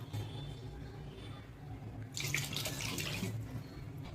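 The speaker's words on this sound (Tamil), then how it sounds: "இப்போ இதுக்கு நீங்கள் தேவையான அளவு தண்ணி சேர்த்துக்கலாம்" Low background hum, then a splashing pour of water into a pot of sambar starts partway through, running for about a second before fading back.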